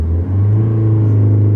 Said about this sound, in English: it's not a gasoline car, it's a diesel